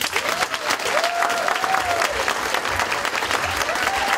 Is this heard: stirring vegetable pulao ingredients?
no